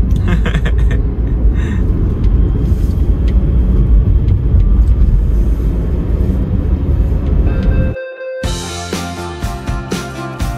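A Daihatsu Sigra car drives on a Trans-Sumatra road trip from Jakarta to Riau, giving a loud, steady low road and engine rumble. It cuts abruptly to music near the end.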